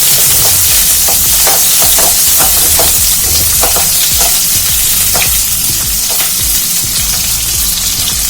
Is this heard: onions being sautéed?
yes